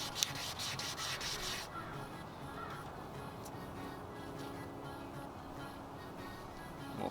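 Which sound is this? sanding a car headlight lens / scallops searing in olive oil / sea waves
sanding a car headlight lens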